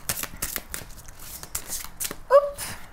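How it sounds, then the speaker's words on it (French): Tarot or oracle cards get shuffled by hand up close, a quick run of papery riffles and flicks repeating in bursts and ending in one sharper snap. "Je recommence à mélanger parce que quand je vois la carte, je préfère recommencer"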